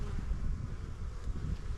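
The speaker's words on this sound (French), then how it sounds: "Parce qu'il y a beaucoup d'abeilles dessus." A dense mass of honeybees on an overwintered colony's hive frame produces a steady, low, close buzzing drone that holds without a break through the short stretch.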